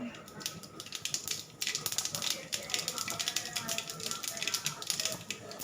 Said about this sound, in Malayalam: അങ്ങനെ കടുക് നല്ലതുപോലെ പൊട്ടിക്കഴിയുമ്പോൾ